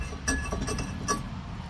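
Rusty brake rotor being pulled off a car hub, giving a few light, bright metallic clinks and taps, fairly quiet and spaced out over low background noise.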